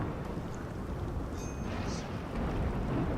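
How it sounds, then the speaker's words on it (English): A heavy RimWorld thunderstorm gives a continuous deep rumbling roar of rain and thunder, loud and steady throughout, with no talk. "Got a heck of a thunderstorm going on right now."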